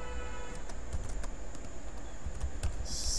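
Typing on a computer keyboard, a quick irregular run of light plastic key clicks, close and moderately loud over a steady faint background hum, with no talking.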